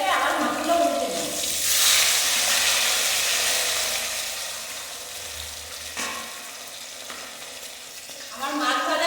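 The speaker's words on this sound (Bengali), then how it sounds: "মাছের এক পিঠ হয়ে গেছে, আবার মাছগুলো উল্টে দেবো।" Fish frying in hot oil in a pan, a steady close sizzle with stirring and turning scrapes, loud at first and easing, with brief voice sounds near the end.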